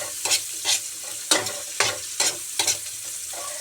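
Chopped onion and garlic sautéing in a pan for a simple vegetable-and-egg dish, with a soft sizzle under roughly seven brisk scraping stir strokes, close and moderately loud.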